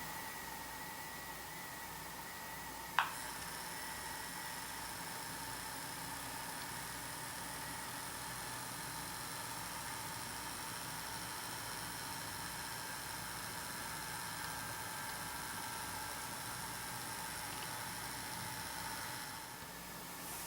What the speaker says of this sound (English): Hopefully you could hear that hum or buzz when the locomotive was going or moving.